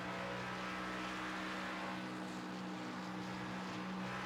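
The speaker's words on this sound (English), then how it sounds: "You can hear in and out of that throttle." Race car engine at Darlington in a racing video game, a steady droning roar that swells and eases as the throttle is worked in and out through the corners, heard alone without talk.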